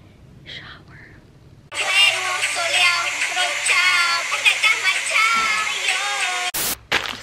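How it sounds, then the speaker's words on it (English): Shower water running steadily in a home bathroom, a loud continuous hiss that starts abruptly after a quiet moment and keeps going, then cuts off near the end. "I'm gonna take a shower."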